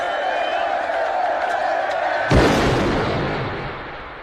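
A single sharp gunshot bursts out over a busy, murmuring crowd scene in the 1979 film The Warriors, landing as a loud crack with a broad, lingering tail that fades as the crowd noise continues.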